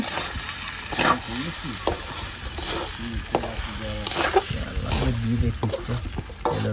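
Rice sizzling and being stirred in a pot of chicken pulao cooked aboard a fishing trawler in the Sundarbans, with steady frying hiss, repeated scraping strokes and faint voices in the background.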